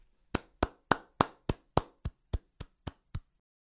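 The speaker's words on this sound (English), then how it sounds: "Round of applause to Atjazz and Jullian Gomes." Eleven sharp, evenly spaced claps ring out one after another, close and clear, with no talking around them.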